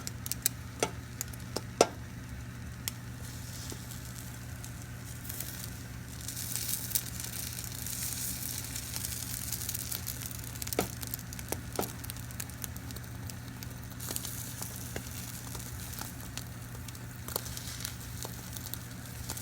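Omelet frying in hot butter and grease in a pan, a steady soft sizzle with faint scattered pops and ticks, close and continuous with no talking.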